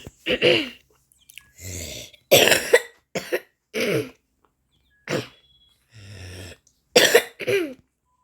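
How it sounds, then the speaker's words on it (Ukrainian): A person coughs repeatedly and harshly up close, in separate bursts of one or two coughs with short quiet gaps between them. "Бачите, я кашлю."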